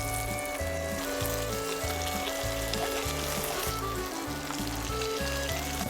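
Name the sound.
veal cutlet frying in oil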